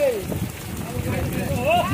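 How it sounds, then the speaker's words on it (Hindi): Heavy rain pours down steadily in a village, a dense close hiss of water hitting surfaces, with a voice briefly speaking over it. "बहुत भारी बारिश हो रही है यार"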